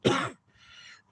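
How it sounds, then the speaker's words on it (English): A single cough from someone recovering from a cold, one loud rough burst followed by a fainter, breathy rasp trailing off, close and alone with no talk. "my cough doesn't sound too bad right now"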